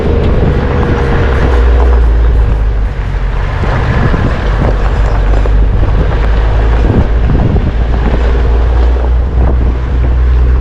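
A vehicle travelling along a small rural road toward a national park in Colombia, with a steady loud low rumble and heavy wind buffeting throughout, and no speech.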